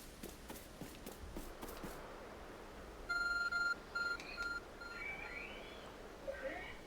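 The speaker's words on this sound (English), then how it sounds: "There's a glowing beeping object over there." An electronic beeping object glows in Pokémon Legends: Arceus, giving a run of short, clear, evenly spaced tonal beeps in three or four bursts. Brief footsteps and a soft game ambience surround them, and the beeps stay fairly close.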